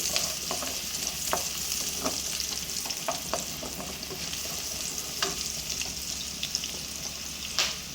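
Potatoes stirred while frying in butter for an egg drop gravy give a steady, close sizzle throughout, with soft scraping and clinks from the stirring utensil scattered on top.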